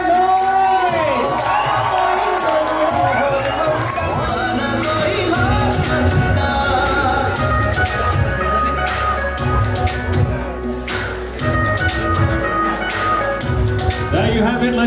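A crowd at a wedding dinner reception cheers, whoops and claps loudly for the couple. The noisy, sustained celebration carries on for the whole stretch, with voices shouting over it.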